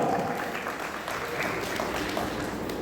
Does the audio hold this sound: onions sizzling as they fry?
no